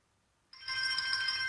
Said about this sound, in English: we're going to disconnect the music in order to hear the ringtones